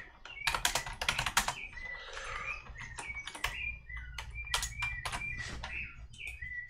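Keys clatter in quick, uneven bursts on a computer keyboard while code is typed, close and fairly crisp, with short pauses between runs of strokes and no talking.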